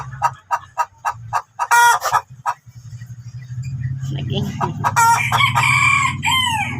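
Chickens cluck in short repeated bursts close by, followed by a rooster-like crow and steady engine hum, with a brief spoken word.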